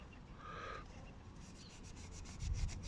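Yamaha RD350LC clutch plates rubbed with a Scotch-Brite pad, a steady close scrubbing hiss with a rhythmic series of strokes building toward the end, no talking.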